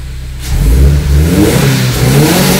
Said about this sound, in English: Oh, you can really hear that blow off valve.